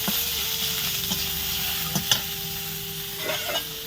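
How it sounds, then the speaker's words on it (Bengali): Onions frying in oil in a pan while cooking river mussels, a steady close sizzle with occasional scraping stirs and light clinks, no talking. "তেল দেবো, এই তেল দিচ্ছি, দিয়ে এই ওর উপরে পেঁয়াজ দিয়ে দেবো।"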